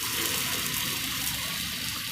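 Water is poured into a pan of cooking chilli and raw mango sambharo, a steady rushing gush that lasts throughout with no talk over it.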